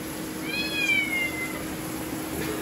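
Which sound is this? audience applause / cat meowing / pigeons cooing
cat meowing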